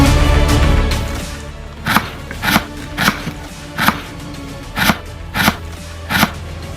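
Kitchen knife cutting onion on a cutting board: a slow, steady series of about nine crisp chops, evenly spaced and close, following a low rumbling start.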